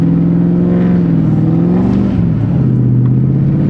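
A Crown Vic P71 police sedan drives through a snow storm, its engine droning loudly and close with a deep, steady tone that sags and then climbs as the gas is fed gently, with no talking.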